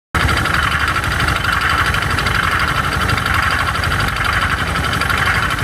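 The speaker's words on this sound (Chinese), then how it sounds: "能很明显的听到发动机的声音不平顺， 有非常强的顿挫感。" A SYM Jet scooter engine with crankshaft wear runs continuously up close, giving a loud, steady drone with an uneven, rough, juddering quality.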